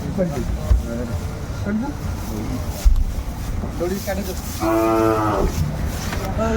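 Sahiwal bulls at a livestock market, with a close, loud, drawn-out moo near the end and busy talk from traders and buyers around it.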